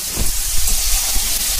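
Ginger and spices frying in a pan while kochu greens cook, a steady close hiss and crackle that runs unbroken throughout.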